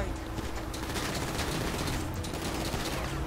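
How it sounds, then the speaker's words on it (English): Sustained video game gunfire during a heist mission, a dense continuous rattle of rapid shots that stays loud and steady throughout with no clear gaps. "Tristan, can you shoot these guys?"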